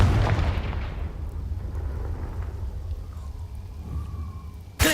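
A Confringo fire spell detonates in Hogwarts Legacy with a deep thunderous boom right at the start, then rolls away into a long rumbling fade, with a sharp impact sound just before the end.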